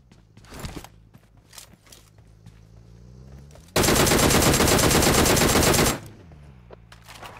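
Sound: gunfire in a shooting video game

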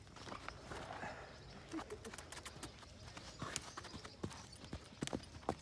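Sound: horse hooves clip-clopping during ride

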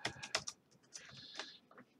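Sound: typing on a computer keyboard

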